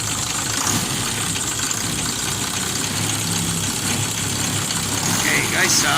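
A vehicle engine idles steadily and close by after fuel system troubleshooting for hard starting, a constant low running rumble without clear revving.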